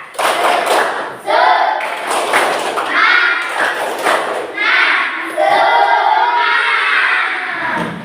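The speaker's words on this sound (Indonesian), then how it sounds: "Coba Ibu cek semangatnya dengan tepuk semangat" A school class claps a rhythmic spirit pattern together, sharp clustered claps and thumps in repeating bursts, with young voices chanting along throughout.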